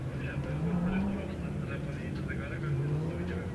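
A Formula Student race car on an autocross course: an engine drone rising and falling through corners at moderate distance, with a commentator talking over it throughout.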